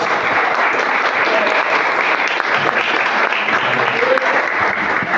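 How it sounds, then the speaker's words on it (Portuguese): Church congregation clapping in praise at a revival service, loud and dense applause sustained for several seconds, close and steady, with a voice faintly underneath. "Pode se assentar, glorificando a Jesus com as suas palmas."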